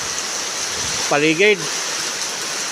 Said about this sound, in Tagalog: Ay napakalakas niya ang ulan.